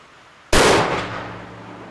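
A single sharp gunshot from a straight-wall cartridge fired in a break-open gun cracks loud and close after a quiet start, then rings out in a long fading tail.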